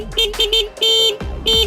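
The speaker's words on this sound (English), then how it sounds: "It's like a little electronic air horn." Small electronic air horn on a fat-tire bike blasting several short honks, then a longer blare and another burst, loud and close.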